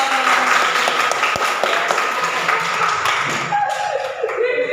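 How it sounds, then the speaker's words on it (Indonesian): Students in a classroom clap during a practice teaching lesson, a lively burst of many hands that thins out and fades partway through, leaving a few scattered claps and faint room noise. "Oke, kasih tepuk tangan dong."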